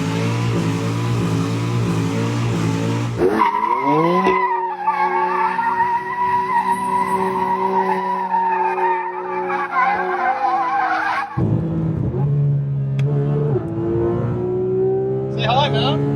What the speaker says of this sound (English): extreme excessive speeding and burnouts on public roads